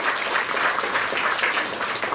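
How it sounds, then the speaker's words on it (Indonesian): A church congregation applauds together, loud, dense and sustained clapping that fills the room for the whole stretch, with no voices over it. "tepuk tangan dulu bagi Tuhan Yesus"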